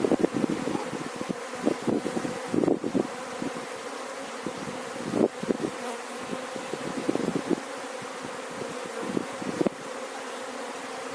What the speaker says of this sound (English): Trying to be careful and not hurt any bees.